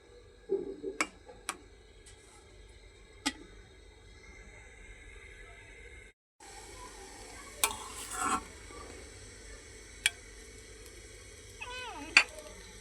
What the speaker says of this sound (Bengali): এই যে স্যুপ নুডলসটা রান্না করে নিচ্ছি এখন